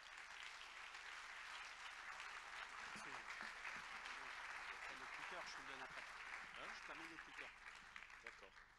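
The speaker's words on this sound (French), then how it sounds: "Je vous demande de lui faire une ovation, s'il vous plaît" Sustained applause from a conference audience welcoming a speaker, a dense, steady wash of clapping throughout, with a voice talking over it partway through.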